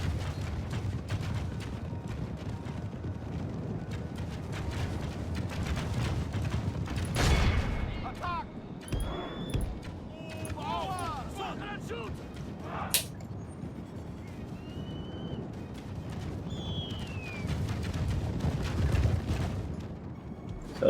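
Ranged units of the Easterling faction fire volleys in a Total War Silmarillion battle: a dense, continuous din of repeated shots and impacts, with louder bursts and sharp cracks rising over the steady clamour.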